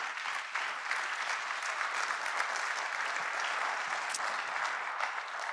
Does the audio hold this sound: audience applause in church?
yes